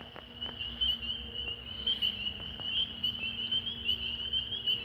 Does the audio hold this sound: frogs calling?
yes